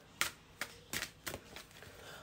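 Tarot cards shuffled by hand in a few separate bursts of crisp riffling and flicking, close and fairly quiet, with a soft continuous hiss between the bursts and no talking.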